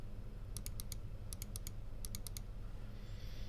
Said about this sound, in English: Right click 305. Right click GPRO wireless